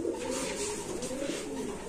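Racing pigeon from a 2019 auction lot, wearing a leg ring and chip tag, coos steadily throughout against a busy, noisy room.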